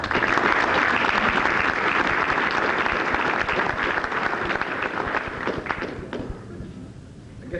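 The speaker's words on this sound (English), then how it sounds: "Hats off to the applause for the show." An audience at a high school football awards banquet claps steadily, a full, loud wash of applause from many people that tapers off gradually toward the close.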